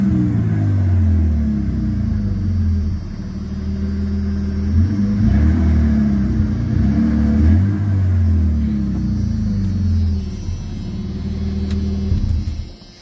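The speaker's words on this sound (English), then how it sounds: "Let me give it a little rev." A 4.9 turbo truck engine with a Flowmaster exhaust, factory cat and muffler revs several times, rising and falling in deep, close, rumbling swells above a steady idle.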